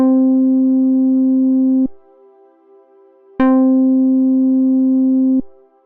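Two sustained synthesizer notes start instantly at full volume, each holding steadily for about two seconds before cutting off abruptly.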